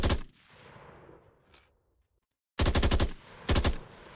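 Automatic gunfire from a gun in a Vietnam-era first-person shooter video game: two loud, rapid bursts of shots after a fading echo and a short silence.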